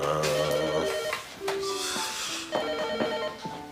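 A telephone rings indoors, a close, loud electronic ringtone repeating its tones in a short patterned melody, with no talking.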